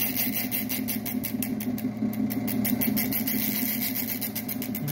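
Motor of an automatic gemstone preforming machine runs steadily at around 450–470 RPM, a constant close mechanical hum with a faint regular pulsing and resonant drone.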